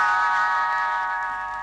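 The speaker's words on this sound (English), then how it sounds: "You will know it is time to turn the page when Tinker Bell rings her little bells like this." Small tinkling bells ring as a page-turn signal on a 1970 Disneyland read-along record of Robin Hood, a bright sustained chime that rings alone and fades slowly.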